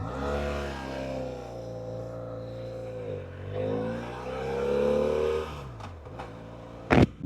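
A motorcycle engine rides steadily, its pitch rising and falling as the rider shifts and turns onto a street; the drone is close and continuous, ending in a couple of sharp bumps near the end.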